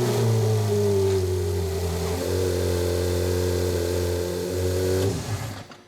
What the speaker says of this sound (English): we're gonna go ahead and start the engine and let it run for a full 30 seconds and then turn the car back off